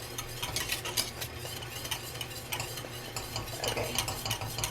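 Pastry cream for Thai tea and matcha cream puffs being whisked steadily in a pot as it thickens, a busy scraping, clinking rhythm of whisk against metal, close and continuous with no talking.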